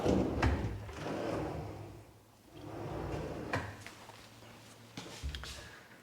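Wooden kitchen drawers of various sizes, built by a carpenter, slide open and shut in a row of thuds and soft rolling runs, close and fairly loud, with brief pauses between movements.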